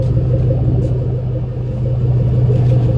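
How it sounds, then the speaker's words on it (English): Ford Shelby GT500 with a Flowmaster Outlaw exhaust gurgling at idle, a loud, steady, deep rumble that holds close and continuous throughout with no voices. "it's sitting like at idle right now, but like that gurgle, it's so much better"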